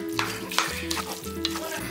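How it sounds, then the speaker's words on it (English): Minced meat and onions sweated in a pan for empanadas being stirred, a soft sizzle under a low background hum with a few scraping strokes of the spoon at irregular intervals. "I'll just stir this up"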